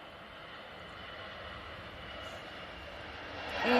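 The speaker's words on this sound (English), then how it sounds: "EasyJet A320 heading out to Palma" An EasyJet Airbus A320 airliner takes off, its jet engine roar a steady broadband rumble at moderate distance that swells louder toward the end, with no talking.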